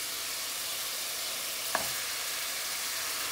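Water splashed into very hot oil holding cumin seeds and bay leaf, giving a steady soft sizzle with a brief sharp crackle partway through, close and moderately quiet, no voices.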